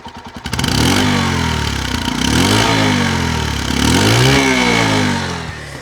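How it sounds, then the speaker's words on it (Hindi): A Bajaj CT 110X motorcycle's exhaust sounds loud and close as the engine runs, starting with a sputter, then revving up and down in several rising and falling surges before settling. "तो एक बार आपको एग्जॉस्ट की मैं साउंड सुना देता हूँ।"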